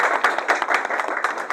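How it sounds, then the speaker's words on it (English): A room of parents and students at a Community Education Council District 25 school meeting claps for a student contest winner, a burst of dense, close hand claps with quick uneven peaks. "Yes, Elvis, just a big round of applause from 209"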